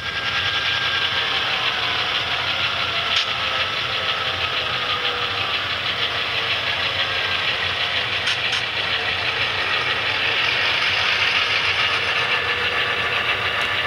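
An HO-scale Santa Fe F7 model diesel locomotive plays its sound-effect system, a steady engine rumble and idle with faint knocking that stays constant throughout, close and without talk.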